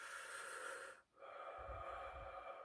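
Slow, quiet breathing during a body-mind warmup exercise, a steady airy exhale, a brief pause, then a soft low inhale close to the listener.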